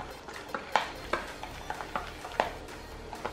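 Black slime being stirred and played with by hand, giving a run of soft, wet squelching clicks at an irregular rhythm, close and moderately loud with no talking.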